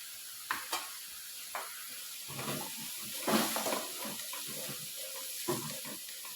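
Cooked lentil curry is stirred after crushed garlic, turmeric and coconut go in, giving soft wet scraping and sloshing with a faint sizzle and a few sharp clinks of the spoon against the pot.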